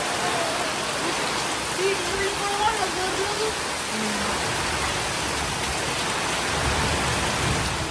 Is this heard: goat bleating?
no